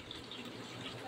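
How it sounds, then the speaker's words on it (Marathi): Water runs into a pot sitting on a gas stove as a brief, steady, soft gushing stream, fairly quiet and unbroken, with no voices. "पाणी टाकलं आहे."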